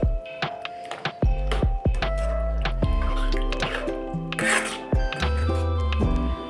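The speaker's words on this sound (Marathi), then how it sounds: "आता आपण हे दोन्ही छान मिक्स करून घेऊया छान हलवून घ्यायचं आहे" Cooked masoor dal is stirred into an egg mixture in a pan for an egg bhaji, with wet squishing and scraping strokes repeating irregularly over a tonal musical background.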